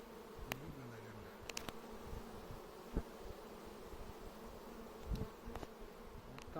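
Bees buzzing around a queen trap at an apiary, a faint steady hum with occasional closer insects passing by and a few soft clicks.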